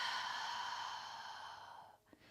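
One long, slow exhale through the nose during a gentle yoga breathing practice, soft airy and fading over two seconds, followed by a faint small sniff, no talk.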